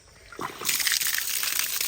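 Water from a 2HP electric pump pushed uphill 400 to 600 meters starts gushing out of a pipe after a brief quiet moment, then splashes and sloshes steadily and close by.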